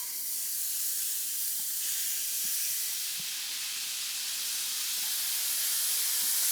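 A hot fry pan with 1.5 pounds of ground meat gives a steady, even hiss of sizzling, continuous and fairly loud, with a faint low hum underneath and a few soft clicks, no voices.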